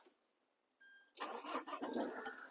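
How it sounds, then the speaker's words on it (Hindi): A car is started with its self starter after the ignition is switched on, a short whirring crank followed by the engine catching and settling into a steady idle, close and clear with no talk. "गाड़ी का इग्निशन जो है ऑन करके गाड़ी को मार लेना है सेल्फ।"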